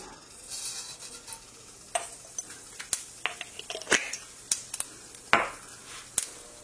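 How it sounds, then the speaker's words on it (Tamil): Mustard seeds crackle in hot oil in a pan, a quiet bed of frying with many quick irregular pops and sputters scattered throughout, no one speaking. "எண்ணெய் காஞ்ச பிறகு கொஞ்சம் கடுகு"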